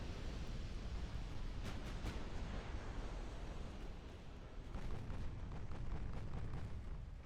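Naval gunfire in the Ultimate Admiral Dreadnoughts video game: a steady roar of distant battleship guns with several sharp booms scattered through it, growing busier toward the end, with no talking.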